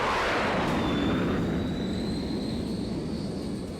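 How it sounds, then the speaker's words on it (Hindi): Russian fighter jets roar overhead on bombing runs over Ukraine. It is one loud, steady, broad rush with a thin rising whine, fading only slightly, and no voices. "ये पुतिन के फाइटर जेट हैं जो यूक्रेन पर बमबारी कर रहे हैं।"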